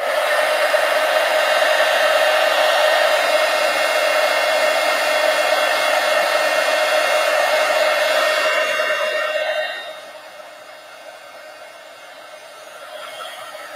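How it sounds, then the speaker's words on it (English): A heat gun blows steadily and loudly to dry wet black paint on a small art card, a constant rushing whoosh that drops off sharply near the end and is followed by a softer hiss. "I'm going to go ahead and hit this with the heat gun because the black is still wet"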